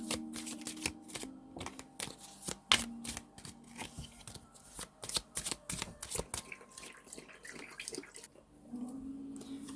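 Tarot cards being shuffled in steady, close riffling bursts with soft slaps and flutters, repeated over several seconds without talk.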